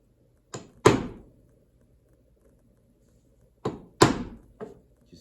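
A chisel is tapped into a wooden drawer front to deepen a scribed dovetail line, giving sharp dull knocks in two close pairs about three seconds apart, then a lighter follow-up tap, each hit ringing briefly before silence.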